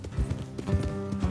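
Hooves clip-clop in a steady, rhythmic trot, moderately close, over a low background rumble.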